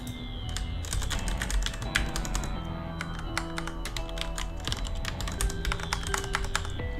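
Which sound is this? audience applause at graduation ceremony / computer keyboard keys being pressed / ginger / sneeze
computer keyboard keys being pressed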